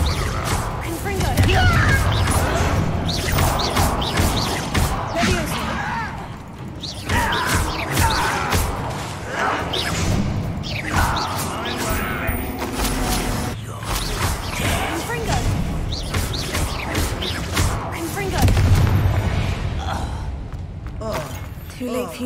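Confringo blasting spells go off in Hogwarts Legacy, with loud crashes and thuds layered over busy game action and character voices talking throughout.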